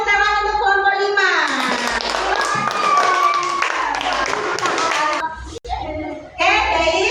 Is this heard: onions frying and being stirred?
no